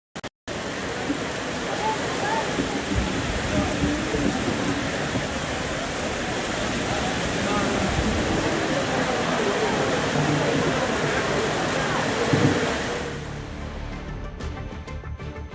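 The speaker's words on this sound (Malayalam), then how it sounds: "കോഴിക്കോടിന്റെ കിഴക്കൻ മലയോര മേഖലയിൽ കനത്ത മഴയാണ്. ശക്തമായ കാറ്റോടുകൂടിയാണ് മഴ അനുഭവപ്പെടുന്നത്." Heavy monsoon rain, driven by strong wind, falls over the eastern hill areas of Kozhikode in Kerala. It makes a dense, unbroken roar of downpour that holds steady throughout.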